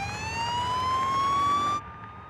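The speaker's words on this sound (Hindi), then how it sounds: "एम्बुलेंस है ये तो।" A wailing emergency siren rises steadily for nearly two seconds, loud and close, then cuts off abruptly, leaving a low background rumble.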